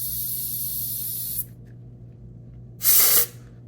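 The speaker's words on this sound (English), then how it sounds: "just put that duster on the tip of the nozzle and just blow air through it, just to make sure all the solvent comes out" An air duster blows through the tip of a 300 micron printer nozzle, with a long steady hiss that cuts off, then a second short, loud blast after a pause.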